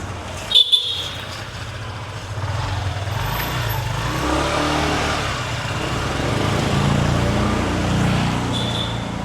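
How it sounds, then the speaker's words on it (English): Motor scooter traffic on a street in Tay Ho, Vietnam, with a sharp horn toot near the start followed by a steady, fairly loud engine drone and road rumble of vehicles passing close by. "we can hear it, so what do we think? Oh, we think they're a scooter"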